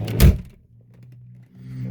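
A single solid thunk of the door of a 1994 Chevrolet Corvette C4 LT1 with six-speed manual shutting, followed by a quiet, muffled interior hum.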